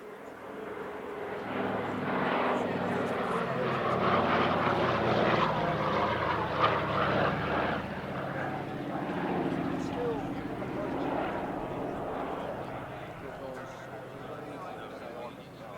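A WWII-era US Army Air Force transport fitted with a glider retrieval system flies past at the Midlands Air Festival airshow, its propeller engines droning steadily and loudly throughout, with a voice talking over it.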